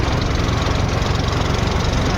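A tractor engine runs continuously at close range on a rough, bumpy road, a loud, dense low rumble with steady chugging and no voices over it.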